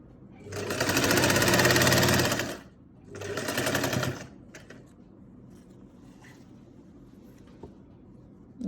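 A sewing machine stitches a sleeve onto a garment in two rapid, buzzing runs, the first longer than the second, followed by quiet handling of the fabric.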